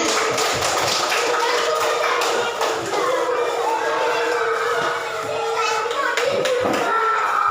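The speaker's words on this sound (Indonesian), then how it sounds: "Tepuk tangan untuk semuanya" Schoolchildren clapping in a classroom at their teacher's request, with a quick burst of hand claps and taps mixed with children's voices and chatter.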